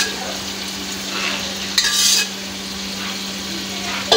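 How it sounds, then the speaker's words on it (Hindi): Chicken pieces coated in yogurt spice masala sizzle and fry in a pot for biryani, with stirring scrapes and a brief louder burst of sizzling midway, close and steady throughout. "जो चिकन है ये अब मैं इसमें डालने लगी हूँ।"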